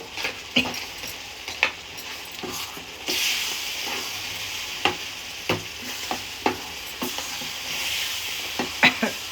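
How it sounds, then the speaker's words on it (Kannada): Cooked tamarind stirred in a pan over a low flame, with a steady soft sizzle and repeated scraping clinks of a spoon against the pan, loud and close. "ಹುಣ್ಸೆಹಣ್ಣು ಬೇಯಿಸಿದ್ವಲ್ಲ ಅದನ್ನು ಹಾಕಿದ್ದೀನಿ ಈಗ ಈಗ ಲೋ ಫ್ಲೇಮ್ ಇಟ್ಟಿದ್ದೀನಿ"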